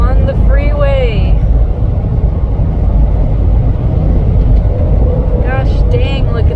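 A 1956 Chevy accelerates onto a freeway, its engine and road noise a steady, loud rumble heard from inside the car, with brief voices at the start and end.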